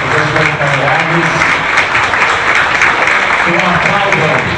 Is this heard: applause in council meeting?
yes